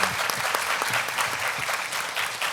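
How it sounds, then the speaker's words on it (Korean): An audience at a hearing loss panel discussion applauds, a dense burst of clapping from many hands that carries steadily through the whole moment. "다시 한번 박수를 부탁드리는 게 좋을 것 같습니다"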